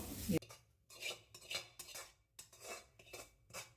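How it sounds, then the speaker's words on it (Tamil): Grated coconut roasting in ghee while a spoon scrapes and clinks against the pan in steady repeated strokes, close and clear with no talk. "இது கொஞ்சம் பச்சை வாசனை போகிற வரைக்கும் வறுத்துக்கோங்க."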